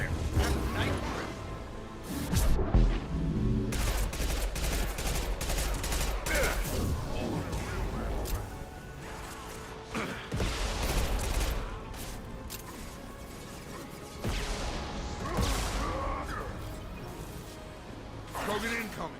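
Gunfire in the video game Mass Effect 2, with fusillade-like bursts and mechanical clatter, with a loud spike near the start, under continuous talk over a dense game soundtrack.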